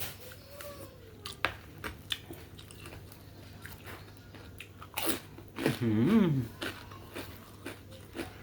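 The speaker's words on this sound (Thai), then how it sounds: "แคบหมูพอดีกรอบคักพี่น้องเลย" Crispy pork rinds crunched beside a fresh shrimp papaya salad, giving scattered close bites and chewing crackles, soft and intermittent, with a brief voiced sound near the end.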